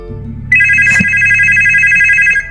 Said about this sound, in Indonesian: Di malam itu telepon berbunyi lagi.